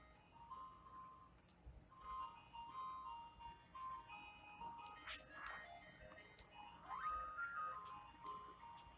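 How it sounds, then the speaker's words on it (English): An ice cream truck plays its tinny melodic jingle at night in LA, faint and distant, with voices talking nearby. "ice cream truck"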